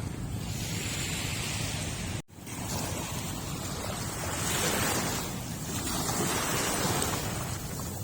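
Ocean surf rolls steadily onto a seaside shore, a continuous broad wash of breaking waves with swelling surges, wind buffeting the microphone and a brief dropout partway through.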